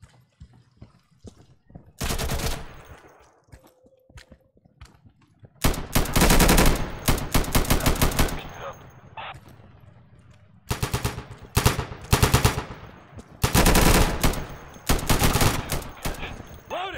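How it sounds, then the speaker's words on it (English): Gunfire in the video game Insurgency, with several loud bursts of rapid automatic shots separated by short quiet gaps, close and sharp. "I shot the guy a couple times"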